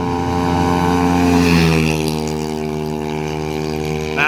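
A motorcycle accelerating off the start at the Reka Vida drag circuit in Bekasi: a loud, close engine wail climbing steadily in pitch through gear changes, then settling into a high sustained drone as it pulls away.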